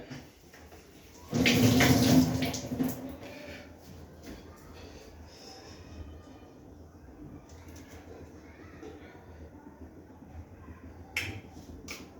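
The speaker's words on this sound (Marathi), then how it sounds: "थोडं मिरच्या धुवून घ्या." Green chillies rinsed under a running kitchen tap, a loud burst of splashing water for about a second and a half, then quiet handling sounds and faint background noise.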